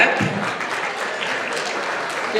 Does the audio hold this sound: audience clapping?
yes